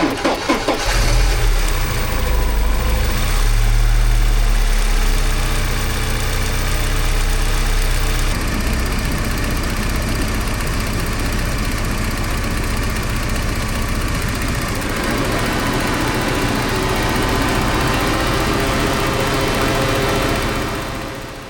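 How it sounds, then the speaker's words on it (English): A classic Porsche engine cranks and catches, then settles into a loud, steady idle with a low rumbling throb close by. The sound runs on evenly for about twenty seconds with no talking. "The car seems to be running perfectly fine now."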